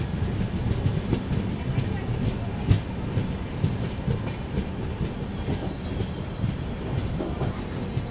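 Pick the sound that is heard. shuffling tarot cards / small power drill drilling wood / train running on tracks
train running on tracks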